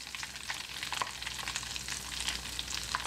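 A haggis cake frying in a pan, giving a continuous crackling sizzle of hot fat with small pops, close and fairly quiet, with no voices.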